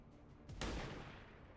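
A single gunshot in XCOM 2 Long War of the Chosen: one sharp crack followed by a short rumbling tail that fades out, heard on its own.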